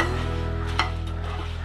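Dry red chillies being stirred and roasted in a hot pan, a steady close sizzle with faint scraping over a constant low hum, no talking.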